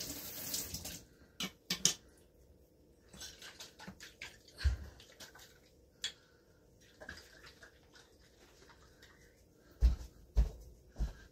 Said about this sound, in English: I'm going to put some water in there and get every last drop